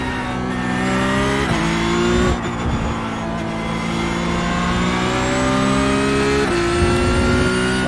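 A Porsche Cup race car at Hockenheim in iRacing drones along at high revs, the engine pitch climbing and dropping sharply at a couple of gear changes, loud and continuous with no voices.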